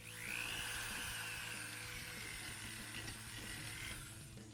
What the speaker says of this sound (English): this is just one quick pass of the wire wheel